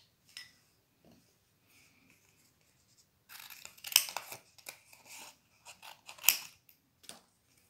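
Scissors snip through paper during a children's craft class, with a few faint early sounds followed by a cluster of crisp, close cutting strokes. No one speaks.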